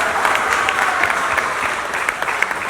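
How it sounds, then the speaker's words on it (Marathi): An audience at a Marathi film celebration event bursts into loud, dense clapping that holds steady throughout, a continuous crowd applause with no individual voices standing out. "तुमच्या प्रयत्नांसाठी एकदा जोरदार टाळ्या होऊन जायला."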